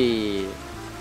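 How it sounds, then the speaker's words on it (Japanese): A heavy downpour sound effect from Momotaro Dentetsu World, marking torrential rain over Kuala Lumpur, plays as a brief loud burst of tonal game jingle and splashing rain that fades within a second. "クアラルンプールに豪雨が降り注ぐってこと。"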